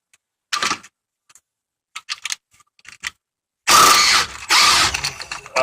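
A ratchet loosens an 18 mm sway bar link bolt on a Volvo S80, giving sharp close clicks in short bursts and scattered single ticks, then two longer, louder runs of rapid ratcheting.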